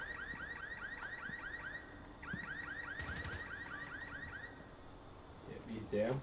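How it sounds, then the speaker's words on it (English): A car alarm sounds in a game scene, repeating rapid rising whoops at a steady mid distance, briefly dropping out and resuming, with faint talk and other game noises underneath. "Car alarm goes off."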